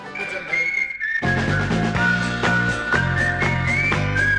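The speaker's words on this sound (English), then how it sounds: "What can you possibly say about a whistling record?" A person whistles a clear, bright melody over a full band backing on a 1967 single, the tune steady and continuous from start to finish.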